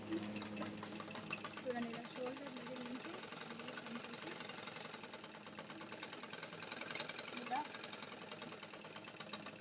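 Sewing machine stitching cloth, a steady fast mechanical chatter running throughout at moderate level, with someone talking over it.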